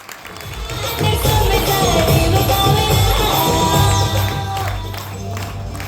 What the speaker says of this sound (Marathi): एकदा जोरदार टाळी करू